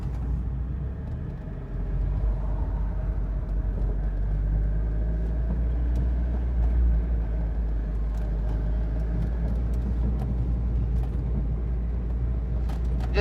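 A 1985 Alfa Romeo car drives along, a steady low engine and road rumble inside the cabin with a slight rise in drone, continuous and without talk.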